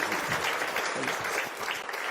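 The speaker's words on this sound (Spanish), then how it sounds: "damos un aplauso al Señor" Church congregation applause, a continuous dense burst of clapping from many people, steady and fairly loud throughout.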